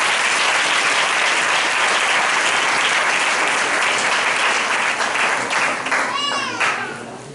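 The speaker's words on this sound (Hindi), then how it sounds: "साथ देंगे एक बार फिर से ताली बजाकर" A church congregation claps together in a loud, continuous burst of applause that fades toward the end, with a voice and brief vocal sounds rising near the close.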